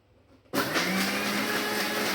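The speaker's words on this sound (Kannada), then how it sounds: "ಮಿಕ್ಸಿಗೆ ತೆಂಗಿನಕಾಯಿ ಹೋಳುಗಳನ್ನು ಹಾಕಿ ಸ್ವಲ್ಪ ಅರಿಶಿಣ ಕೂಡ ಹಾಕಿ ಹುರ್ಕೊಂಡ ಮಸಾಲೆ ಹಾಕಿ ಸ್ವಲ್ಪ ಮಟ್ಟಿಗೆ ಹುಣಸೆಹಣ್ಣು ಕೂಡ ಹಾಕಿ ರುಬ್ಕೊಬಿಟ್ಟಿದ್ದೇನೆ" A mixer grinder switches on abruptly and runs at a loud, steady whine, grinding coconut pieces with turmeric, roasted masala and a little tamarind into a paste, after a brief quiet start.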